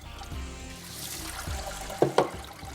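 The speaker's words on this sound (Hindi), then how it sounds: "इसकी ज़रा पानी गिरा देते हैं सारा" Water is poured off soaked lentils, a close trickling and splashing pour over low handling noise, ending in a couple of sharper splashes.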